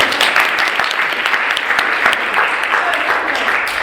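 Audience at a peace-building panel discussion applauds a panel speaker, a steady dense wash of many hands clapping throughout, fairly loud and close, with no talk over it.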